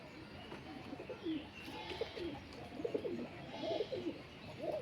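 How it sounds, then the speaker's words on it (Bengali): A pet pigeon coos softly in a series of low, throaty calls while a female pigeon is nearby, faint and moderately close over steady background noise. "পিলাঙ্কা মাদিটাকে দেখে চিকু ডাকছে।"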